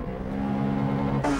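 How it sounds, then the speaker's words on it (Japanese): A Honda Civic Type R EK9 and Nissan Pulsar VZ-R N1 race uphill at Ebisu circuit, 1999; a car engine drones at a steady high pitch, close and loud, with a sudden brighter surge near the end. "引き離すつもりの服部シビックに上りで滑るドリドリパルサー"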